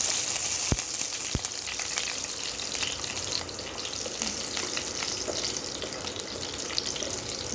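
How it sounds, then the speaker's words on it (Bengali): Garlic sizzles in hot oil already seasoned with panch phoron and cumin, a steady crackling fry that runs without a break, with two sharp clicks near the start. "ভালো করে ভেজে নেব রসুনটা।"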